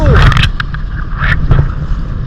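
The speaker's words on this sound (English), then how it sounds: "The outboard works." A small dinghy outboard motor runs steadily close by with a low droning hum, mixed with wind buffeting and water noise, while voices speak briefly.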